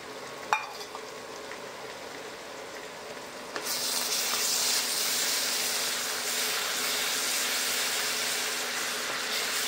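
Stone-ground spice paste drops into hot oil with a sudden loud sizzle partway through, then a steady, bright frying hiss that carries on close by after a quiet opening with a small clink.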